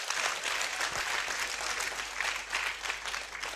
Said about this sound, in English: We want to have clap for all of them.